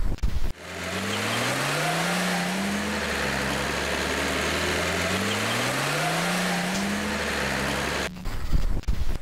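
Car engine in the video game Mortyr II revving loudly and steadily, pitch rising and falling in two long sweeps as it accelerates, with no talk over it.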